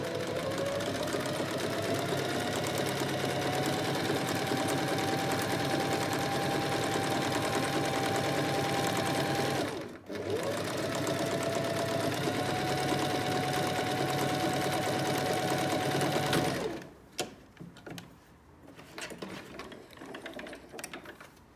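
An Alfa Practik 9 sewing machine runs a straight stitch at about 2.5 mm length in a steady, close, continuous whir with a brief pause near the middle, then stops and leaves scattered handling clicks.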